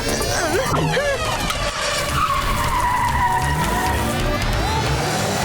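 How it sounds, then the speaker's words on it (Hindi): A car pulling away with tires skidding and squealing, a loud continuous smear of screeching tire and engine noise that stays close throughout. "ओह नो, बिना इंजन ऑन किए गाड़ी चालू"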